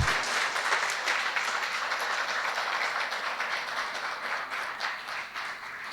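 Sustained audience applause in a lecture hall, honoring the person behind a course; a steady, even wash of many hands clapping for about six seconds at moderate distance, with no talking.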